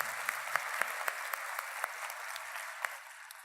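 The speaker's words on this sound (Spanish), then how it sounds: "Démosle un aplauso a Nicolás Márquez" Audience applause for Nicolás Márquez at a political event, steady dense clapping with a few sharper claps standing out, fading lower near the end.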